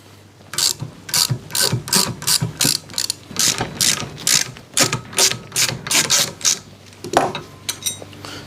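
A spinning front bicycle hub on a quadracer ticks out a loud, fast, steady ratchet clicking in close rhythmic bursts, with no speech over it.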